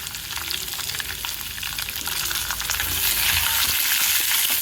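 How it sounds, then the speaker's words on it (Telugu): Chopped onions frying in hot oil with tempering spices for poha upma, a steady close sizzle that grows a little louder and denser toward the end, with faint stirring clicks and no voices. "ఈ దిరమాతలు వేసుకున్న వేగిన తర్వాత ఇందులో ఇలా ఉల్లిపాయ ముక్కలు వేసుకోవాలండి"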